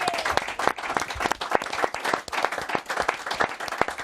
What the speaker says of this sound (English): Round of applause for our George.